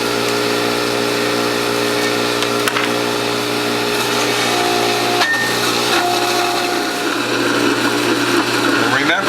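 A WHF juicer grinds fibrous wheatgrass with a loud, steady mechanical whir and hum that runs without a break, with occasional faint creaks and clicks as the grass feeds through.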